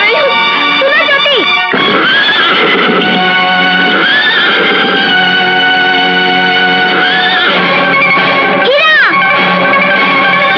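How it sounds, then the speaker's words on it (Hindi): A horse in a 1986 Hindi film scene neighs repeatedly, loud harmonic whinnies rising and falling over a dense, processed soundtrack that fills the whole stretch. "तेरा घोड़ा नहीं मेरा घोड़ा है।"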